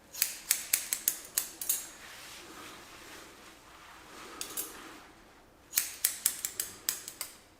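Scissors snipping hair on the top of the head during a home haircut, quick bursts of crisp close snips in rapid runs separated by a pause, loud and alone.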